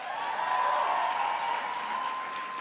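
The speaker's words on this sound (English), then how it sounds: "Everybody give Joshua a big round of applause." Audience applause for Joshua at a President Obama event, a steady sustained wash of clapping that holds evenly at moderate loudness throughout, with a faint tonal hum running underneath.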